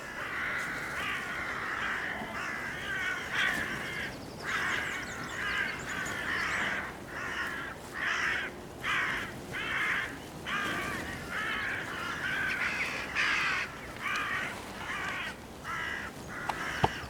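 Hooded crows caw repeatedly in a sheep lambing field, a steady series of loud, rhythmic harsh calls about once a second, fairly close, with no talk.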